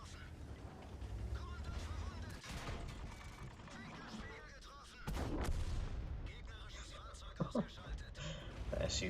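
Artillery and tank gunfire in the video game World of Tanks, booming shots and clanking mechanical sounds under steady commentary.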